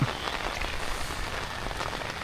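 Steady rain falls during an outdoor walk, a dense, even hiss of drops striking surfaces close by, continuous and without voices.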